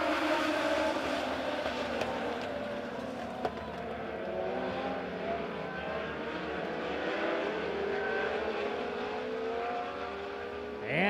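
Race cars roar around the dirt oval at Springfield Raceway during a Legend A-Main race, a sustained loud engine drone with shifting, overlapping revs from the passing pack.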